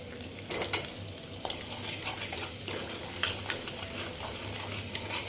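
Garlic and ginger sizzle in a pan for sarson ka saag, a soft continuous crackle broken by scattered clinks and scrapes of stirring, close up with no talking.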